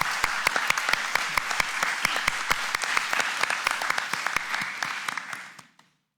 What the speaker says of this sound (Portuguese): Nossos aplausos.